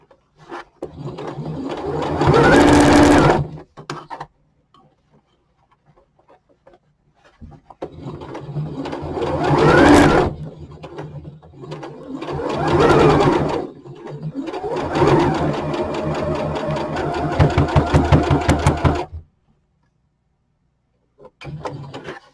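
A sewing machine stitches fabric for a hat in several loud bursts of rapid whirring, separated by short pauses, with no talking.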